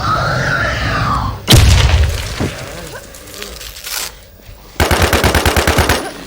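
Machine gun fire in the WarZ video game, with a loud crash early on followed by a rapid, evenly spaced burst of close automatic shots near the end, while a player talks.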